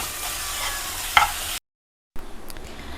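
A short burst of scraping and stirring over a soft sizzle, a brief clink, then a moment of silence before the sizzle returns.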